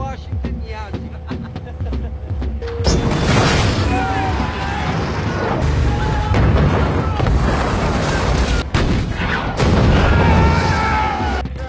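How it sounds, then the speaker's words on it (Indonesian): Artillery barrage in a war film set in the Pacific theater: loud, continuous rumbling booms and blasts with crackling debris, and voices heard over the din. "Gempuran artileri ini datang dari kawan mereka sendiri"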